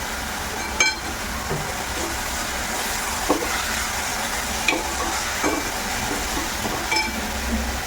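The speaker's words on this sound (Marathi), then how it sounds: "आपल्याला हे जास्त परतायचं नाही आहे थोडीशीच परतून घ्यायची" Fenugreek leaves sauté with soft, steady sizzling in a pan, with occasional scraping and stirring clicks, close by, no talking.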